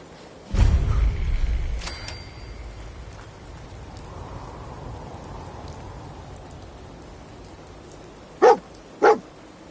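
Dogmeat, the dog companion in Fallout 4, gives two short barks near the end of a stretch of steady rain, after a louder opening rumble.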